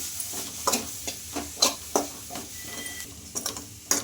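Spices, including chilli powder, coriander powder and garam masala, fry in a pan while a spoon scrapes and stirs them in quick, irregular strokes over a faint, steady sizzle.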